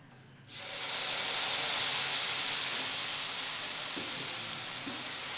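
Batter hitting a hot pan greased with a little oil hisses into a loud, steady sizzle after a brief quieter start, staying broad and continuous with no voices present.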